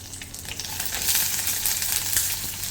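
Sliced onions frying in hot oil with black peppercorns and cumin seeds for a Hogenakkal-style fish curry, a loud, close, continuous sizzle and crackle with stirring, no voices.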